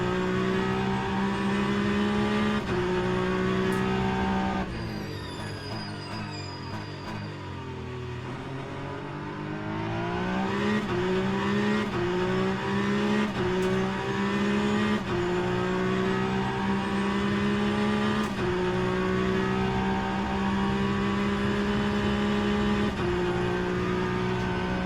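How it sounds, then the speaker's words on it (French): A Peugeot 9X8 race car engine in the game Le Mans Ultimate at Bahrain drones steadily, dipping briefly as it shifts down before climbing again in a long, sustained whine; synthetic-sounding, with no voices. "je viens de vous laisser apprécier ce magnifique bruit de moteur"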